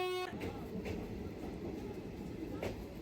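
A train pulls out of Bolpur Shantiniketan station platform 1, heading toward Rampurhat; a brief horn opens before a steady low rumble and rattling of wagons rolls on loudly and continuously nearby.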